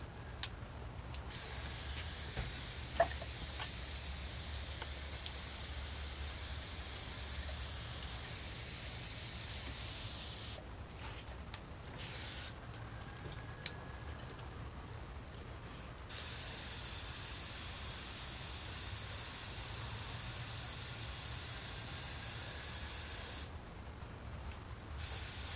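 Marvelous Mystery Oil sprays from a can onto a bike during cleaning. Long, close, steady hissing bursts are broken by brief silent gaps.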